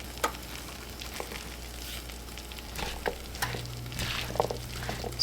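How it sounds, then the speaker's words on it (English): Garlic and scallions frying in a pan at home, a soft steady sizzle with light stirring scrapes running throughout, fairly quiet with no talking. "I'm gonna go ahead and add the garlic now before I add any of the liquids"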